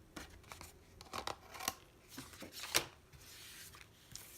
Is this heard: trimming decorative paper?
yes